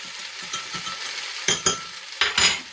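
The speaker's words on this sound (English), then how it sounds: "once you get it quite seared and the onion starting to turn translucent" Meat and onion searing in a pan, giving a steady frying sizzle that swells into several loud, crackling bursts near the end, like stirring or ingredients hitting hot oil.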